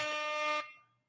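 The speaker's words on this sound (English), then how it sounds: "Pick up yourself with this air horn." A single loud, blaring horn blast with a rich harmonic tone, held for about half a second before cutting off and fading quickly.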